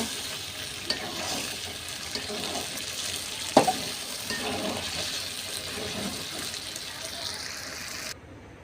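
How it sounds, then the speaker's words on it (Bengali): Chicken curry sizzles in a pot as water is poured in and a spoon stirs, making a steady frying hiss with occasional utensil clinks and a sharp knock midway before the sound drops off near the end. "এখন আমি ঝোলের পানি দিয়ে দেব।"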